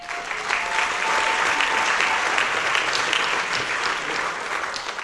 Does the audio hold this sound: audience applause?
yes